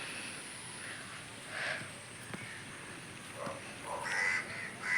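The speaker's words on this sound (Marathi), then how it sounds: "खयचं तरी एक असं कावळो पण ओरडता" A few distant crow caws ring out over quiet evening outdoor background noise in a Konkan village, spaced irregularly with a louder pair near the end.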